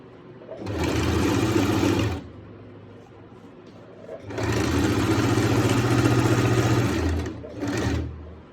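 An electric sewing machine stitches the cuff of a salwar in three bursts: a two-second run, a longer three-second run after a pause, then a short final spurt, each a close, fast rhythmic whirr.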